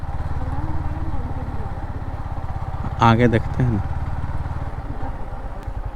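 Motorcycle engine idling at a bike parking area, a close, steady low putter throughout, with a brief burst of speech over it partway through.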